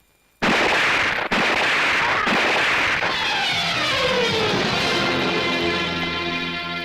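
Sharp pistol shots firing blanks crack out one after another, about four loud reports, each leaving a long ringing echo that slowly fades.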